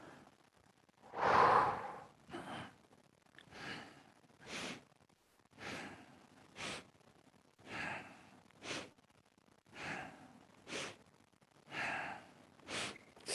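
Slow, deliberate breaths during a Taoist breathing exercise, one long forceful exhale followed by a steady series of soft inhales and exhales at a regular pace, close and alone.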